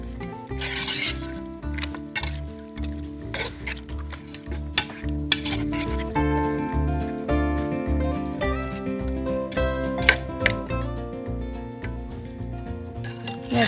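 Chicken cooks on a stovetop in soy sauce and ketchup, sizzling steadily while a utensil stirs and clinks against the pan, with music playing underneath.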